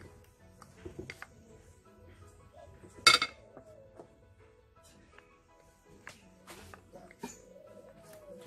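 A spoon stirring seasoning, herbs and spices into a pot of cow tail with beans, giving sparse metallic clinks and scrapes against the pot, one sharp clatter partway through, faint in a quiet kitchen.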